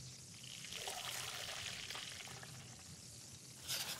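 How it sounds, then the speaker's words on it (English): Bone broth pours into a pot during the making of a steak and mushroom pie after stout has been stirred in, a steady close liquid rush with light sizzling that swells briefly near the end. "I'm gonna pour in some bone broth"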